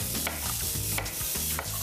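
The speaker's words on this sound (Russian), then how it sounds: "нужно курицу, нужно будет первую у нас обжарить" Chicken pieces frying in a pan until golden, seasoned with sea salt, with steady close sizzling and repeated stirring scrapes and clicks throughout.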